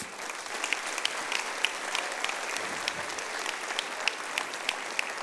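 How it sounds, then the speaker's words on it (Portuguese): A church congregation claps together for raised hands, steady dense applause from a large crowd indoors that holds evenly from start to finish, with no speech over it. "Uma salva de palmas para essas mãos levantadas."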